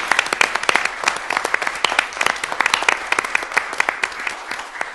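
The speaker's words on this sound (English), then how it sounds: "If you all in the audience would give a round of applause for each of those individuals." Audience applause at a county commissioners' board meeting honoring a Marine Corps Junior ROTC drill team, a steady, dense wash of many hands clapping throughout, fairly close and continuous with no talking over it.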